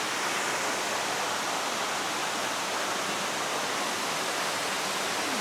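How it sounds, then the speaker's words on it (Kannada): Krangshuri Falls pours down as a steady, dense, full-bodied roar of falling water, heard up close from just behind the cascade with no break. "ಇಲ್ಲಿ ವಾಟರ್ ಫಾಲ್ಸ್ನ ಬ್ಯಾಕ್ ಸೈಡ್ ಅಂದರೆ ಆಲ್ಮೋಸ್ಟ್ ವಾಟರ್ ಫಾಲ್ ಕೆಳಗಡೆ ಬೀಳ್ತಾ ಇರುತ್ತೆ"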